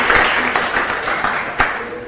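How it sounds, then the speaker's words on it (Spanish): A church congregation at a Spanish-language Catholic sermon breaks into applause, a brief, close burst of dense clapping with no voices over it. "Esta palabra se merece un aplauso."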